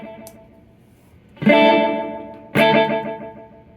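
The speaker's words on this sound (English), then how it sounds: "how do the repeats sound with the mods?" Two struck electric guitar chords feed a Keeley-modded Boss DD3 delay pedal, and each one trails off in smooth, warm, fading repeats. Soft, softened echoes lead in, then two loud close attacks decay slowly.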